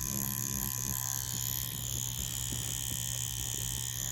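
An Ambition Ninja wireless tattoo machine runs with a soft, slow hit as the needle tip dots skin, giving a steady, close electric buzz and hum throughout with no talking.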